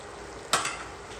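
Food sautéing in a little oil in a pan, shrimp among the ingredients: a short burst of hissing sizzle over a steady frying crackle, close and clear, with no talking.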